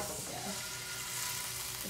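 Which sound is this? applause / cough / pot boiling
pot boiling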